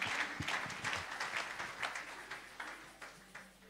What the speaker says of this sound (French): Et nous acclamons pour la parole de Dieu.